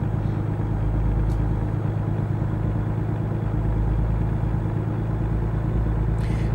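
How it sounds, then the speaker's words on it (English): A truck in American Truck Simulator gives off a constant, deep engine drone with a low rumbling throb, steady and even from start to finish with no talking. "I must admit, this truck doesn't sound too bad."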